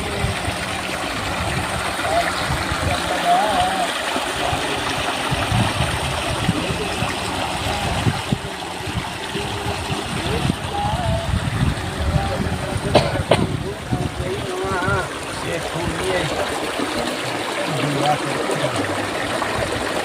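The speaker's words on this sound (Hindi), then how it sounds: "पानी की कलकलाहट आपको सुनाई दे रही होगी।" Stream water gurgles and rushes continuously at an anicut stop-dam site, a steady broadband wash with occasional clinks and faint background voices.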